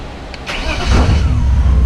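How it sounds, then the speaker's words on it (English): Widebody right-hand-drive BMW E36 with individual throttle bodies cranking and firing up, close and loud, settling into a rough rumbling idle. "So let's restart the car"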